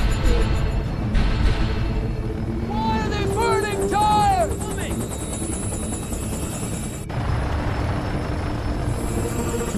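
Little Bird helicopters land with a loud, continuous rotor roar and wind rush, while a voice speaks briefly over the noise and a sharp high whine cuts in midway.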